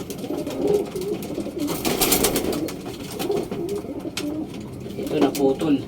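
Several pigeons coo repeatedly at close range, soft throaty calls rising and falling over about six seconds, with a person talking intermittently nearby.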